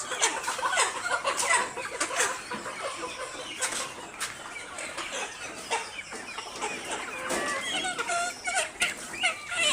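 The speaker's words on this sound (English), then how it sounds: "Handling birds gently during transfer is very important" Layer hens cluck steadily in a poultry house while being moved into laying cages, a dense overlapping chorus of nearby birds with rustling and handling noise throughout.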